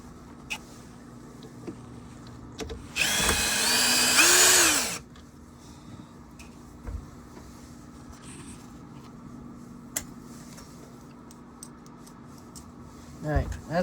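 A power drill whirs for about two seconds, spinning up then slowing as it drives a screw into the motor of a Shark vacuum, followed by quiet handling clicks and taps.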